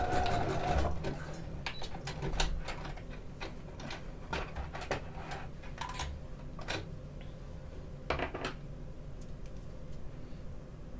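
A sewing machine back-stitching the end of a jumpsuit seam, a fairly quiet steady mechanical whirring and ticking with a few sharper clicks and knocks scattered through it.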